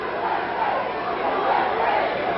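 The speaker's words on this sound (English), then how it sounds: "Crowd now chanting USA" Wrestling arena crowd at a Cuban Assassin versus Tom Prichard match chanting in unison, a dense, steady roar of many voices filling the hall throughout.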